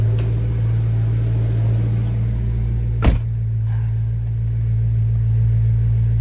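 Car engine idling to warm up, a steady low hum with a brief sharp click or knock midway, continuous and close.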